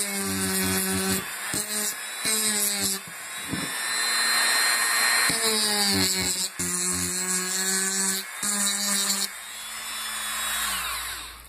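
Copper is stripped off a phenolic circuit board with a loud, close, whining power tool that runs in repeated bursts, starting and stopping several times, then holds a longer steady run before winding down.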